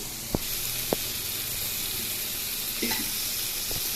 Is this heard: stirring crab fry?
yes